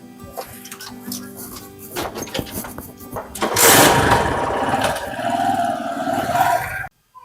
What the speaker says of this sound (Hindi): देख लो रे, मोटरसाइकिल पे घूम रही बिरजू की छोरी।